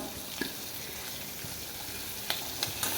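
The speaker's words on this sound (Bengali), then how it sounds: "পেঁয়াজ কুচি দিয়ে দিলাম" Chopped onion frying in oil with cumin for a spinach and prawn curry gives a soft, continuous sizzle, with a few faint stirring taps and no talking.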